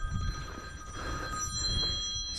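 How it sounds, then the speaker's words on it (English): A telephone rings with a steady electronic tone over low background rumble, faint and alone without talk, in a workplace where a soil cover is being placed over a mound septic system. "swear the phone never stopped ringing today"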